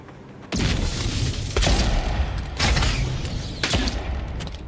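Firearms go off in the fantasy game Avowed, four loud, booming blasts spaced about a second apart, each trailing into a rumbling echo with no talk in between.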